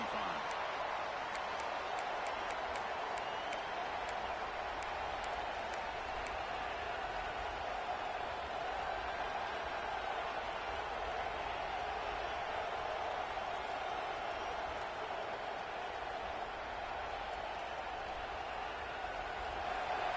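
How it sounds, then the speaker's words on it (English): Steady wash of football stadium crowd noise, a continuous roar and murmur in the early going of a game, constant in level throughout with no distinct peaks. "Listen to the crowd energy here in the early going."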